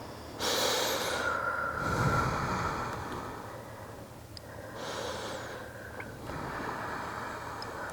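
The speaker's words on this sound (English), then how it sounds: "Nice deep breathing." Deep, slow breaths during a bodyweight stretching workout, close and clear, with two long audible exhales and inhales in a quiet room and no talk.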